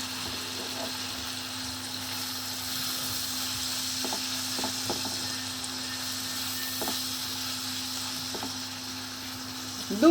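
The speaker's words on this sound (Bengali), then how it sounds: "কুচিয়ে রাখা সোয়াবিনগুলো দিয়ে একটু ভাজা ভাজা করে নিয়েছি" Chopped soybean chunks fry in plenty of mustard oil, a continuous close sizzle with scattered scraping stirs and a steady low hum from the kitchen behind it, and no voices.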